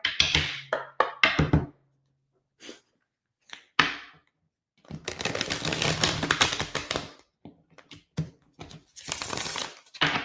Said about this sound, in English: I need one more shuffle from this thing